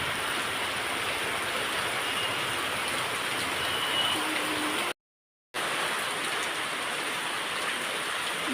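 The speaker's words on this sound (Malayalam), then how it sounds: "നല്ല ശക്തമായ മഴ." Heavy rain lashes down in strong wind, a dense, loud, continuous roar that holds steady throughout and is cut off by a brief gap of silence before it resumes.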